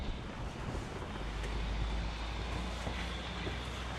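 Steady wind buffets the microphone aboard a catamaran, a constant broadband rush with a low rumble underneath and no voices.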